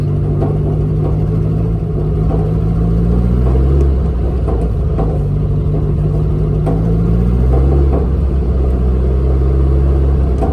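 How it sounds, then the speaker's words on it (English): A 1972 Volkswagen Beetle's engine runs as the car drives over a bumpy stretch, a loud, steady low rumble that rises and falls slightly with the throttle, close-up and alone without voices. "rev it up a little bit so it doesn't stall"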